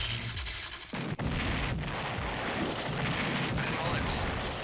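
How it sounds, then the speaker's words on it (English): Battle sounds from Command & Conquer: Red Alert (Blue Alert - Aftershock mod) roar steadily, with sharp booming artillery shots and continuous rumbling explosions, loud and dense throughout. "Oh, and another artillery piece."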